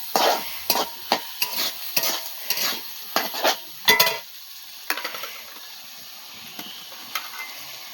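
Chopped green chilies and onions hitting hot oil and being stirred, a series of sharp sizzling bursts and utensil scrapes in uneven rhythm that settle into a softer fry.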